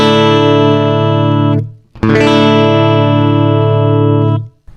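Electric guitar played through a Zoom G1 Explorer multi-effects pedal with no delay: two sustained, distorted chords ringing loudly and alone, the first cut off abruptly before the second is struck and held to its end.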